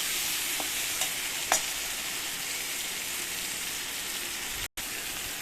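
Mango pieces fry with turmeric in a pan, giving a loud, even sizzle that runs throughout, with a couple of faint taps from stirring and a brief dropout near the end.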